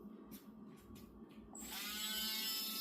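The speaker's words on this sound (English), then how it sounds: "Now we're going to Dremel them to smooth off the edges." A Beacon Hill nail grinder fitted with a Diamagroove bit, working on a Wire-haired Pointing Griffon's nails, switches on partway through after a few faint handling sounds. It settles into a loud, steady, high-pitched motor whine that runs to the end.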